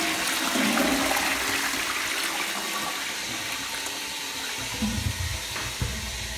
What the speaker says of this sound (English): Toilet flushes correctly.